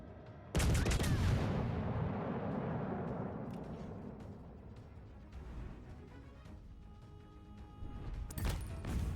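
Warship main battery gunfire in World of Warships Legends: a sudden heavy booming salvo that rolls out into a long rumbling decay, followed later by a fainter second burst, without talking.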